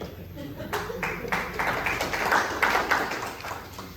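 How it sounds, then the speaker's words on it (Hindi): An audience at a Vaishya community conference in Guna, Madhya Pradesh, breaks into applause, a steady patter of many hands clapping at moderate distance, with a voice talking faintly underneath. "मैं उनके लिए भी एक बार जोरदार तालियां"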